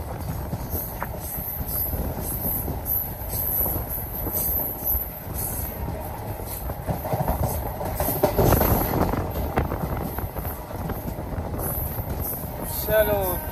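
The Bhagalpur-Muzaffarpur Jansewa Express runs along the tracks with a constant loud rumble, rattling carriages and bursts of high wheel squeal, while faint voices murmur inside a crowded general compartment.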